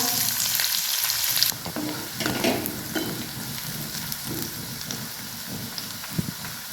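Curry leaves, cumin and finely chopped onion hit hot oil with a loud, bright sizzle that drops sharply a moment later, settling into steady frying with occasional spatula stirs and crackles.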